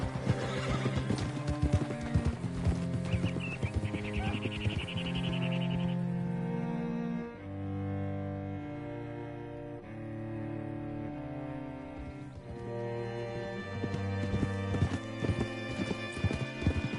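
Horse hooves clip-clop in a steady rhythm beneath swelling music in Red Dead Redemption 2, the footfalls close and continuous, with a brief neigh amid the mix.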